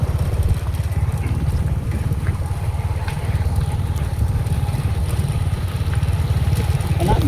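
A motorcycle engine runs steadily with a low, continuous rumble on a road through a banana plantation in New Corella, Davao del Norte, loud and close throughout with faint outdoor noise.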